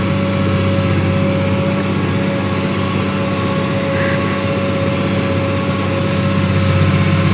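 A Case MX270 tractor pulling a PON 5+1 plough runs under steady heavy load, its loud, constant low engine drone holding without a break from start to end.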